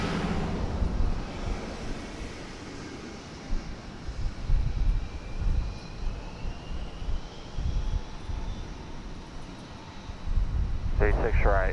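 An American Airlines plane taking off at DFW Airport, a broad, rumbling engine roar that swells and fades in waves from some distance, with a short burst of radio-like voice at the end.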